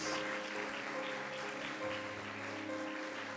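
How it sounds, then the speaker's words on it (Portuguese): A church congregation claps for first-time visitors, a dense, sustained round of applause that carries evenly for a few seconds with no speech. "Uma salva de palmas."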